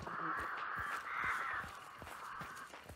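A flock of crows in the video game Hunt: Showdown, raucous cawing that overlaps in a continuous harsh chorus, fairly loud and carrying on with no speech.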